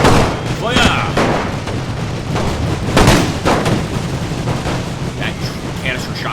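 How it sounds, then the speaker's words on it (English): Canister shot artillery booms repeatedly in Napoleon Total War with the Great War mod, a series of loud, irregular blasts and rumbling battle noise while someone talks over it. "Let's switch to a canister shot."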